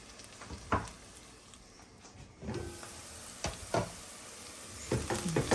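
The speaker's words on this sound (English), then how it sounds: "We will saute this for a few minutes." Ingredients sautéing in a pan for gluten-free rice and peas, a soft steady sizzle broken by several sharp scraping stirs and clatters at irregular intervals, fairly close and moderately quiet.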